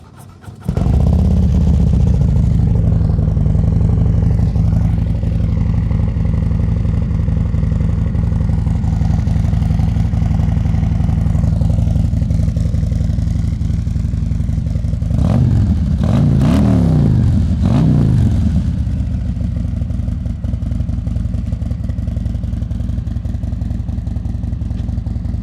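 A 2020 Harley-Davidson Road Glide Special with a 131 stage 4 kit runs loud and close on a dyno, holding a heavy steady drone that swells into a few sharp revs midway before settling back to a rumble.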